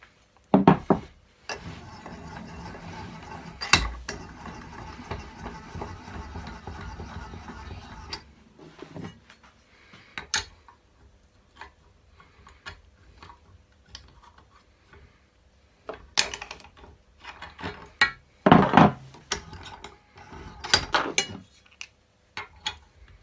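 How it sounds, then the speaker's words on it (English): Alloy shifter frame from a Toyota Supra Mk4 A80 clamped in a vise while old bushings are pushed out, heard as scattered sharp knocks, clicks and metallic taps with quiet pauses between. "we'll set it up in the vise, and we'll show you how those bushers push out"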